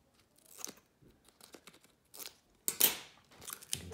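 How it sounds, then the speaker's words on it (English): Scissors snip through strips of duct tape in a few short, crisp cuts with light crinkling of the tape, close and quiet with brief gaps between. "So I just cut a couple pieces of duct tape off."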